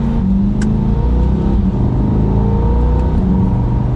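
A 2020 Chevrolet Corvette C8 mid-engine sports car revs hard and accelerates, its loud, close roar broken by quick gear shifts, with no voices.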